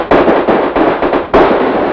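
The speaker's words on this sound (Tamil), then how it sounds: "என்ன இந்த வெடி வெடிக்கிறானுங்க?" A string of firecrackers bursts loudly and close by in a Tamil film scene, about six sharp cracks in quick, uneven succession, each trailing into a crackling rattle.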